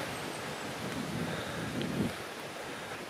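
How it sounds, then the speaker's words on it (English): Wind blowing across an open reservoir on a freezing day, a low, steady rush with soft gusts and faint microphone buffeting, quiet and continuous. "It's very windy, so it'll be a good test for me."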